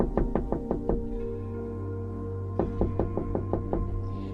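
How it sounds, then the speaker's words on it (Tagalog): Repeated knocking on a door in a Filipino horror audio drama: two quick bursts of about five sharp knocks each, separated by a pause of over a second, over a steady low background hum. "Ngunit ilang saglit pa'y sunod-sunod na ang pagkatok sa kanyang pinto."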